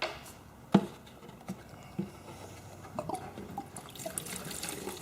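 Gasoline splashes and trickles out of a weed trimmer's fuel tank with a few sharp drips and patters, fairly quiet and close, with no talking.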